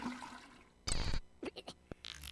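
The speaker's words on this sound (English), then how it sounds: "hoping to hear a toilet flush sound" A brief toilet flush sound effect plays as a short rushing burst of water, quiet overall, followed by a few scattered small splashy noises.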